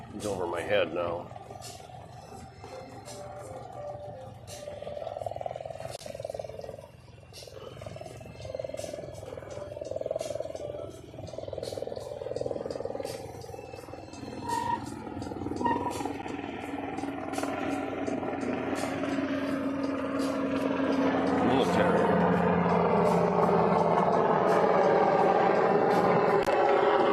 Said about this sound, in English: Yeah, that's the helicopter.